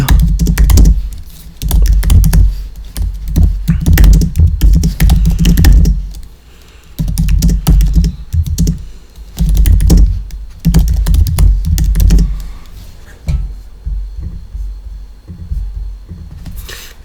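Close, loud typing on a dusty computer keyboard: bursts of rapid key clatter broken by short pauses, with a faint hum underneath.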